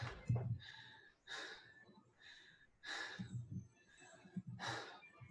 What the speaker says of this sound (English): I hear breathing. It's good to have people breathing.